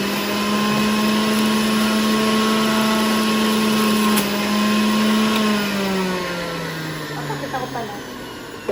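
A blender whirs steadily at high speed while mixing cucumber and carrots for juice, loud and close, then winds down as the motor slows near the end.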